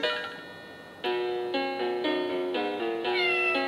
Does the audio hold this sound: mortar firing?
no